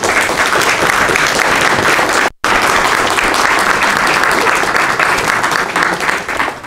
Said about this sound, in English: will you please stand so we can give you a round of applause?